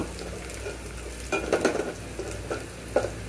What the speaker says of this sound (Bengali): পেঁয়াজগুলোকে হালকা ভেজে নিব